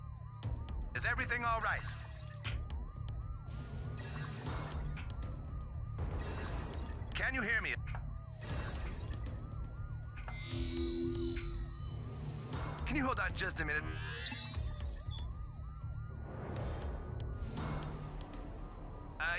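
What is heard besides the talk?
home security alarm siren in video game South Park The Fractured But Whole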